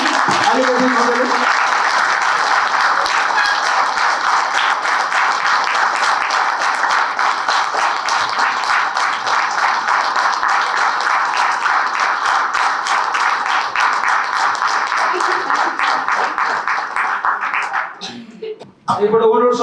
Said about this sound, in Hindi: ताली अलि कम्ती होस् न हैन? ताली बजाइदिनु पर्यो।